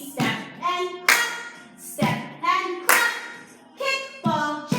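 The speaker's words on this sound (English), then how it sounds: "we step and clap" Young children aged five to eight in a jazz dance class stepping and clapping, sharp bursts of claps and foot taps recurring in a regular rhythm, with faint voices mixed in.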